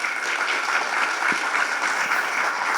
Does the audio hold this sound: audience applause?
yes